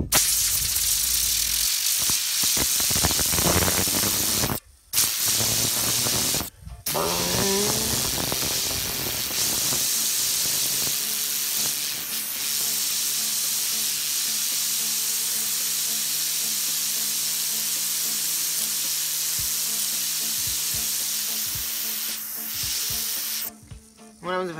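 A steady loud hiss of compressed air spraying a fidget spinner, with a whirring spin beneath it and a couple of brief breaks where the spray stops.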